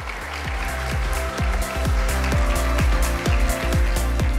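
Applause for a speaker being welcomed onstage at a software education festival, a loud dense wash heard over low pulsing stage music with repeated descending bass tones.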